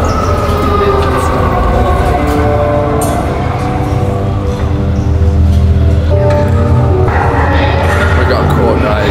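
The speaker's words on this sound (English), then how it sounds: "We're like in London. Like on the subway." Loud, rumbling London Underground train in motion with screeching wheels and a steady roar, voices talking over the noise.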